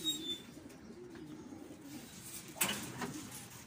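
Pigeon cooing during a racing pigeon release, soft and fairly distant, a few low coos over faint ambient background with a brief brighter sound near the end.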